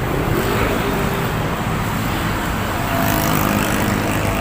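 Road traffic runs along Manila Bay near Dolomite Beach, a loud, steady wash of passing cars and engines with no talk over it.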